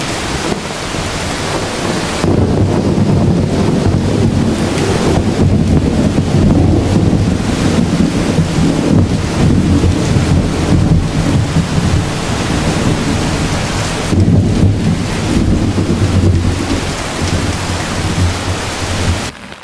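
Heavy rain pours down steadily at a campsite in Cavinti, Laguna, in a dense, loud roar, with wind buffeting the microphone and a low rumble underneath; no voices.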